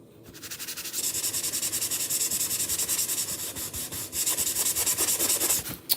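Wax rubbed by hand onto a Chalk Couture craft project, a steady run of close, rhythmic rubbing strokes lasting several seconds with a brief pause near the middle.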